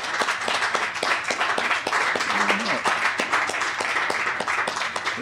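Audience applause at a 1997 poetry recital in the San Francisco Public Library, a modest crowd clapping in distinct, closely spaced claps, fairly near, with a voice briefly heard under it.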